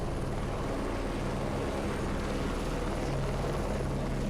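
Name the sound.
helicopter flying in the video game Heliborne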